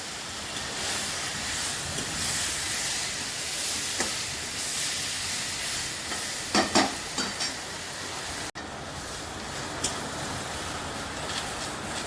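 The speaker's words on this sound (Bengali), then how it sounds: "এবার চালটাকে ভালো করে ভাজতে হবে" Rice and pointed gourd stir-fry in a pan with a soft, steady sizzle, broken by a few scattered clicks and scrapes of stirring, all fairly faint.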